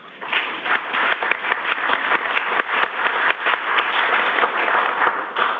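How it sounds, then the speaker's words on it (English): A room full of people at a village board meeting claps for staff birthdays, steady applause lasting several seconds with no talking over it. "We can have a round of applause"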